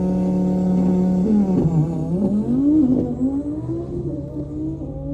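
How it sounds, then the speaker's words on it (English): Cars roll racing on a closed Miami highway roar loudly up close, one engine revving and climbing in pitch through gear changes while others whir alongside, continuous for several seconds. "They're actually doing roll racing, so they're starting by rolling"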